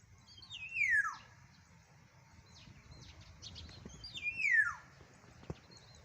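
Two clear, fluting black-naped oriole calls with a descending sweep, each a couple of seconds apart, over faint background chirps and low rumble.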